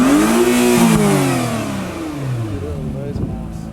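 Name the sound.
Honda Acura NSX supercar engine revving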